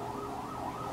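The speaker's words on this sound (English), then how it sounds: "Really, sirens?" Emergency sirens wail in a steady, wavering tone at moderate distance, fairly faint and continuous, with no voices over them.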